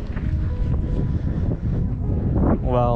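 Cold wind blows through the old-town streets of Barbezieux and buffets the microphone with a steady low rumble, while a voice speaks softly underneath.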